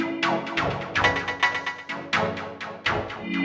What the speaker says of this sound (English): The first thing we have going on here will be all these chord stabs